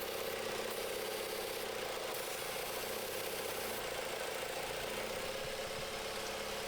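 A car engine idles with a massive vacuum leak, giving a steady, continuous mid-pitched drone with a faint rattle and hiss running unbroken throughout, close and fairly loud with no talk over it.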